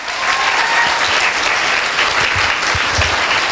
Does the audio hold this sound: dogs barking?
no